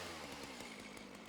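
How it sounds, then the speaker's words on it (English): Chainsaw from the Satisfactory video game, a short burst of dense, raspy buzzing with a rapid chattering pulse, loud and close, with no talking. "And you're not taking the chainsaw to it."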